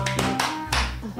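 A Korean TV studio audience claps in three sharp, separate bursts in quick succession, close and loud, with voices faintly present.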